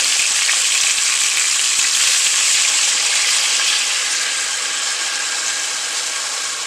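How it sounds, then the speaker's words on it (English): Red wine is poured into a hot pan of braised beef shanks and hisses loudly at first, a dense sizzling rush that slowly fades as the liquid settles. "we're going to deglaze the pan a little bit here. We have some red wine for that."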